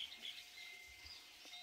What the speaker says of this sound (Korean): 새소리 하며